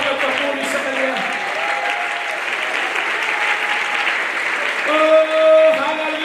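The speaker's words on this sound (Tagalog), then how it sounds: "Pwede ba natin ibigay at palakpak at papuri sa Kanya?" A congregation at a teachers' congress night in Balungao, Pangasinan breaks into sustained applause and praise, loud and even throughout, with a voice and some tonal sound rising near the end.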